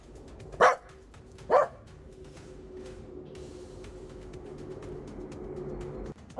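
A dog gives two separate sharp barks close by, then a third at the end, over a quiet background with faint bird calls.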